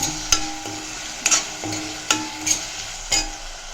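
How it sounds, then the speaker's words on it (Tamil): Okra sautéing with salt in a pan, a soft background sizzle broken by about seven sharp spatula scrapes and knocks against the metal at an uneven, unhurried pace. "உப்பு சேர்த்துட்டு நல்லா வதங்கட்டும். வெண்டைக்காய் நல்லா வதங்கட்டும்."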